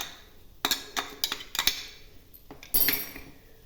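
A spoon stirring green coriander into a dal filling clinks and scrapes against a metal bowl in several sharp, close taps and short scrapes, with quieter gaps between them and no voices.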